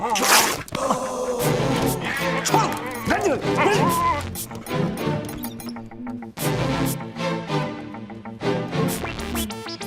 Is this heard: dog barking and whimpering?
yes